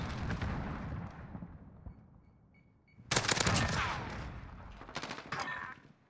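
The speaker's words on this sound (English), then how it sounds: "I'm getting shot in the back" Gunfire in Modern Warfare multiplayer Search and Destroy, a rattling burst of automatic shots that fades into a quieter lull, then a loud close volley at three seconds followed by scattered bursts, with no talk.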